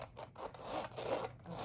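A zipper on a small Louis Vuitton leather good is pulled in short, close raspy strokes, quiet and continuous with brief pauses.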